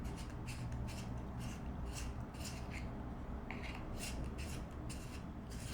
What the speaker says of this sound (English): I'm going to sharpen it just quickly because it's such a fine line.